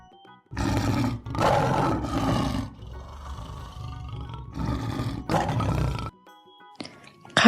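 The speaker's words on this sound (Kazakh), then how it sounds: "жолбарыс" A tiger roars loudly and close in a run of harsh, rasping bursts, four or five in all, with a low growling rumble between them before a short pause and a final grunt.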